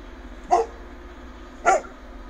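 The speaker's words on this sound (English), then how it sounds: "Sorry about my dogs barking." Two sharp dog barks about a second apart, fairly close and loud, heard at night from inside a home over a low steady hum.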